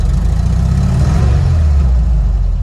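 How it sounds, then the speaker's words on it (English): A VW Bus engine with a Pertronix ignition idles steadily up close, a loud continuous low rumble that runs without a break, with no voices over it. "you heard it start up and idle just fine. Listen to it idle."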